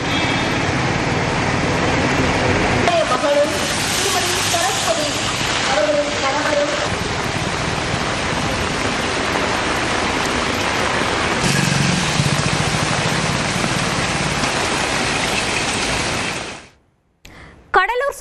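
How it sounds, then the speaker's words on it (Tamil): Heavy rain pours steadily during a cyclone around Cuddalore, a dense continuous hiss lasting most of the span, with a brief musical sting early on and a voice briefly near the end. "கடலூர் சுற்றுவட்டாரத்தில் கடந்த 1 மணி நேரத்திற்கு மேலாக மழை வெளுத்து வாங்கி வருகிறது"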